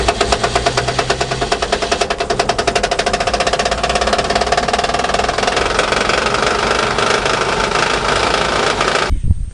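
A V8 Land Rover engine that has not moved in five years runs steadily and loud, with a dense, rhythmic mechanical clatter throughout before cutting off abruptly near the end.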